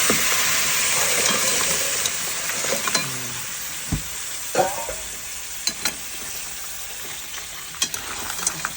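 Crab stirred and frying in butter, a steady close sizzle with scraping stirs and clinks of a utensil against the pan, no talking.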